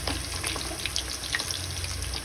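Shrimp fritters (okoy) frying in hot oil in a pan, a continuous close hissing sizzle with faint crackles and pops throughout, steady and without speech.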